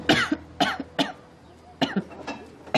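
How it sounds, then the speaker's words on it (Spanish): A series of harsh, hacking coughs close by, several bursts with a short pause between groups. "No me gusta nada esa tos."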